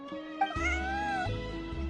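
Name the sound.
cat meowing in the video game Genshin Impact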